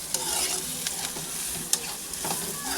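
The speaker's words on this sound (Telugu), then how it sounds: "ఉల్లిపాయలు అయితే బాగా మగ్గించుకోవాలండి" Onions sautéing in a pan for a home-cooked chicken curry, a steady close sizzle with scraping stir strokes and a few sharper clinks from the utensil, no voices.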